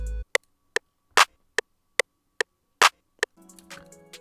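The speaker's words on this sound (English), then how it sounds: "Clap sounds like this." A clap sample laid on beats 2 and 4 of a trap beat built in FL Studio: crisp, dry hits evenly spaced and alone, several louder and fuller than the rest, ending in a brief low hum.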